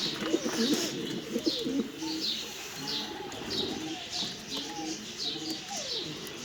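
Bango breed pigeons coo repeatedly in a coop, soft rolling calls with a few chirps overlapping at moderate distance, and a faint background murmur throughout.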